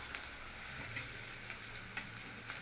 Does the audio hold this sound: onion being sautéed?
yes